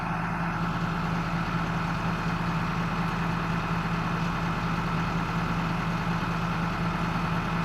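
A heavy machine engine runs steadily at a low idle-like drone throughout, with no distinct gear-change surges, loud and continuous with no talking.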